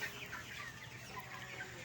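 Broiler chickens 32 days old cluck steadily as a flock, a dense, continuous chatter of overlapping hen-like calls, moderately near with no talking.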